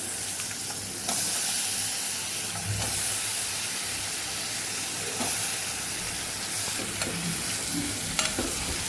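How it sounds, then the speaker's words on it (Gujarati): Cowpeas and potatoes are stirred into spices frying in a pan for a Kathiyawadi-style vegetable dish. A steady, loud sizzle and hiss runs throughout, with occasional stirring scrapes and no talking. "તો આપણે ચોરી ધોઈ અને સરસ આપણે સુધારી લીધી છે એ ઉમેરી દઈશું અહીંયા બટેકા પણ સાથે જ ઉમેરી દઈશું"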